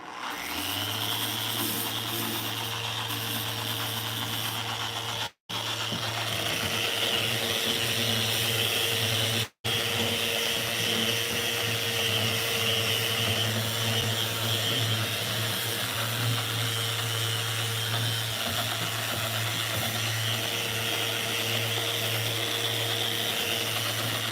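A Festool Rotex sander runs continuously at close range with a steady whine and hum, briefly cutting out twice before resuming, with no voices.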